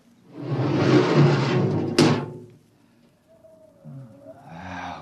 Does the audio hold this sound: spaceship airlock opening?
yes